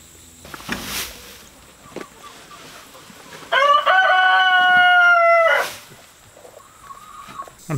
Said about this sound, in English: Got a chicken already in there. Just digging around.